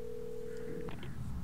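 Telephone in the Alan Wake video game: a steady dial tone holds for nearly a second, then short tonal dialing beeps follow, quiet and close.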